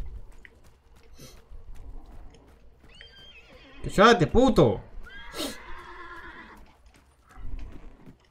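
A horse whinnies in the Hunt: Showdown video game, a loud, close, quavering neigh rising and falling over about a second, followed by a shorter snort-like call, with someone talking before and after.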